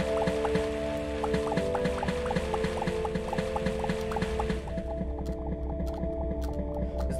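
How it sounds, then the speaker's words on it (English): Water drains in the Starbound video game as a continuous run of quick, rhythmic dripping and trickling blips over a steady low tone, fairly loud throughout, with no talk. "Okay, yeah, the water's definitely going down."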